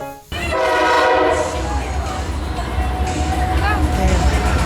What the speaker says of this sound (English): we caught another eastbound autorack train on the old PNLE main line